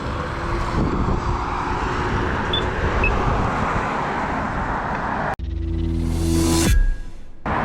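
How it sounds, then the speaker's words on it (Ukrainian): Steady roar of cars passing on a Vancouver street fills the scene, engines rumbling continuously; a heavier vehicle whines close by near the end. "Зараз машинки проїдуть"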